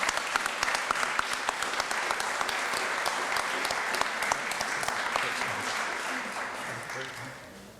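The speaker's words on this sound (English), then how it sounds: "how about a round of applause for these three great speakers?" An audience at a marketing talk gives a sustained round of applause for three speakers, dense clapping with individual sharp claps standing out, tapering off toward the end.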